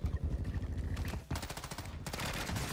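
Rapid pistol gunfire in Warzone 2, a fast run of close, loud shots with a brief pause before firing resumes.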